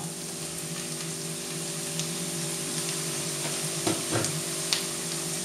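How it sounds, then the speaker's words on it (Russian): Carrots and onion fry in a pan with a steady, close sizzle, broken by a few scraping stirs toward the end. "Обжаривать вместе с луком, пока не получится у нас красивый золотистый цвет"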